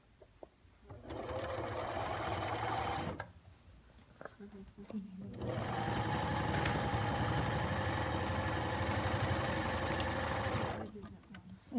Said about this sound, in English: how is your sewing machine reacting to the fabric?